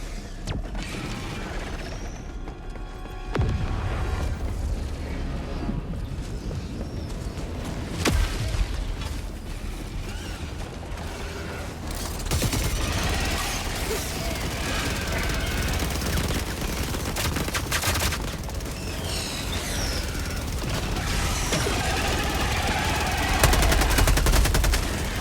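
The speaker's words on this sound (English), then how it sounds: "Calling down a sentry." A sentry gun is called down and fires in Helldivers 2 against Terminids: mechanical clanks and ratcheting give way to sustained rapid automatic gunfire, loud and continuous over about twenty-five seconds.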